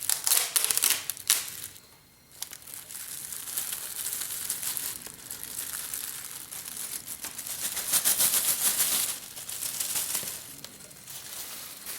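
Crinkly rustling and crumpling of a bag being opened to reveal Madagascar bourbon vanilla beans, close and fairly steady for most of the stretch, with a short quiet gap near the start.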